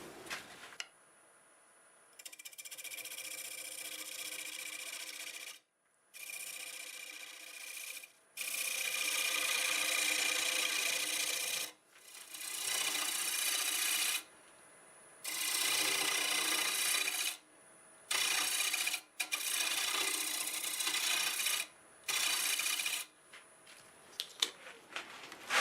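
A black walnut piece on a wood lathe is flattened with a turning tool: repeated loud, raspy cutting passes of a few seconds each, separated by brief pauses, close and alone without talk.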